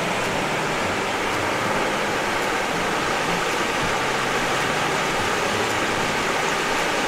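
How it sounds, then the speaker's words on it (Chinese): Water rushes steadily over rocks in the Seven-ford River, a stream on the MacLehose Trail in Hong Kong, on a rainy day. It forms a constant, fairly close, broadband wash with no voices. "呢条石间叫做7道河。"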